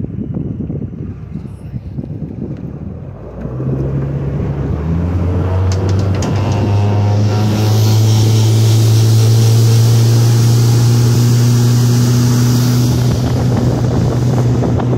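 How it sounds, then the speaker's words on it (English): Outboard motor on a 2019 Mako Pro Skiff 17 running on the water, a steady droning hum that rises in pitch and loudness as the boat speeds up, with wind buffeting the microphone throughout. "A minute of the motor."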